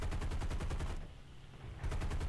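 A Mustang-D fighter in War Thunder fires its machine guns in rapid, evenly spaced bursts. The fire stops briefly for a quiet gap and then resumes at a steady rattle.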